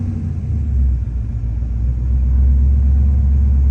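An LS-family V8, a 4.8, 5.3 or 6.0, idling with a stuck, surging high RPM: a steady, close, loud low engine rumble that swells slightly partway through, with no talking.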